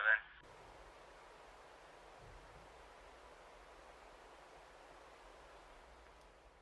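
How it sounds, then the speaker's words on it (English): A recording of a counting voice gives way to a short loud burst, then steady hissing static noise. The static stays faint, broad and continuous for several seconds with no voice. "the voice faded into silence and was replaced by static noise"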